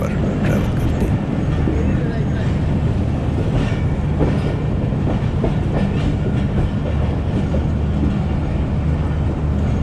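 The Pakistan Express passenger train running on a rail line between Chak Jhumra and Sangla Hill, a loud, continuous rumble with rhythmic clickety-clack of wheels over rail joints throughout.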